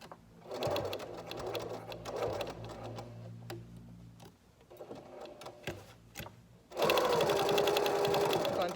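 A sewing machine stitches back and forth over elastic ear straps on a cloth face mask in close, fast bursts of rhythmic mechanical clatter, separated by short pauses, with a brief faint voice in between.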